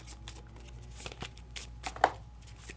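Cards from the Vs. System 2PCG card game are shuffled close by in short riffling bursts and soft slaps, fairly quiet, with a few irregular taps between.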